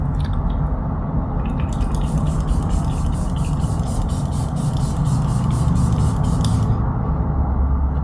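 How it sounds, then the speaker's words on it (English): Benefit Professional Super Setter long-lasting setting spray hisses in a steady, close, continuous mist lasting several seconds, then cuts off abruptly, with no talking. "let's try the Professional Super Setter Long Lasting Setting Spray by Benefit"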